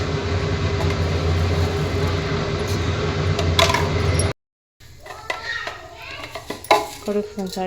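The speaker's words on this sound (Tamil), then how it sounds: "ஆயில் ஊற்றிட்டு இப்போ கொஞ்சம் கடுகு" Mustard seeds added to hot oil and stirred in a pan for egg salna: clinking and scraping of utensil against the pan, a brief drop to silence, then irregular spattering crackles and stirring knocks.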